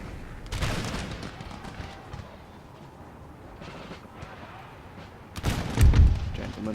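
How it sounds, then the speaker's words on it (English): Thundering cannon volleys from artillery in the strategy game Empire Total War, an early boom, a rumbling battlefield in between and a loud deep blast near the end, with someone talking over it. "These beautiful shots here from the artillery."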